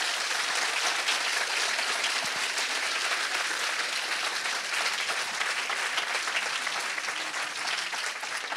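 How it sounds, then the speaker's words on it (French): An audience at the 2018 MT180 local final at Université de Lyon applauds, a dense, continuous wash of many hands clapping that holds steady throughout with no voices. "je pense que vous pouvez les applaudir très très fort"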